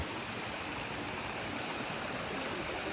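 Water runs from a tap outdoors in snowy weather as a steady, soft, even rushing flow with no breaks.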